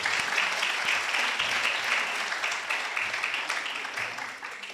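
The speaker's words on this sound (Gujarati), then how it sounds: "હેમંત શાહ માટે એક વખત ફરી વખત તાળી પાડી" An audience at a ghazal recital claps for Hemen Shah, a dense, sustained round of applause that holds steady and then tapers slightly, with no speech over it.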